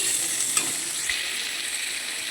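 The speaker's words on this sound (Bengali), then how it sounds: "আলুটা ভাজা হচ্ছে।" Potatoes frying in a pan for a soybean-potato curry, a soft steady sizzle with a couple of light stirring clicks, fairly quiet and without speech.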